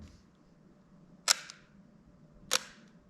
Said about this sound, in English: the MP has a slightly louder, slightly more high-pitched shutter sound, and the MA is slightly more dampened and slightly lower or like bassy shutter sound